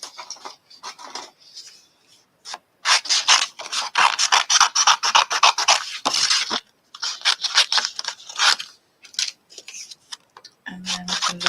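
Scissors snipping paper to cut out small colored paper bows for a Christmas craft, a steady run of close, crisp repeated cuts with short pauses between strokes.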